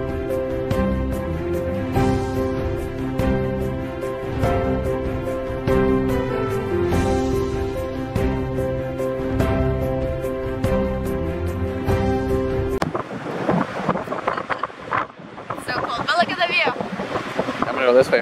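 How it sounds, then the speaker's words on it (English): Steady music plays until the last few seconds, when heavy wind buffets the microphone on an Australian beach, a loud, gusty rumble right up close. "prepare for lots of audio of wind"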